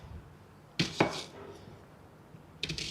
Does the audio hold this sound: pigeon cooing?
no